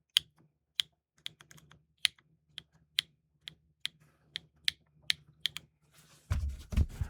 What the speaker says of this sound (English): It's a really nice clack comes out of it.